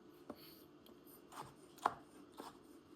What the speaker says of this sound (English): Cut it as small as you want.